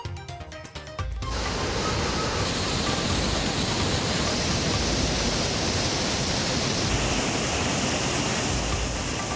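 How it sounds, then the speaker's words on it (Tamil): The Kottakudi river near Bodi, swollen after heavy rain, gives a loud, steady broadband roar of rushing floodwater that sets in after a brief opening and holds unbroken to the end. "கனமழையால் போடி கொட்டிக்குடி ஆற்றில் வெள்ளப்பெருக்கு."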